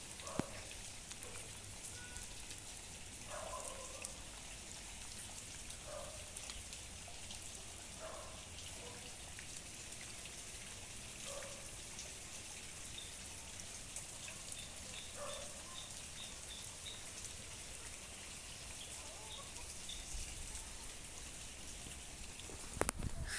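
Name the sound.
heavy rain falling on the ground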